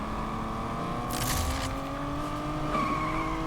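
Tires squeal steadily as a car drifts through a corner in a Need for Speed racing game, loud and continuous over a droning engine, with no talk.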